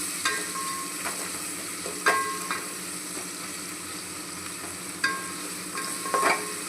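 Onions frying in a pan with salt give a steady, moderate sizzle, and a spoon scrapes and clinks against the pan every second or two as they are stirred, close by with no talking.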